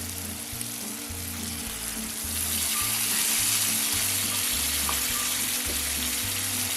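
Loud steady sizzling of frying masala with a rush of water poured into the hot pan for a country chicken gravy, continuous and close, with faint stirring and no voices.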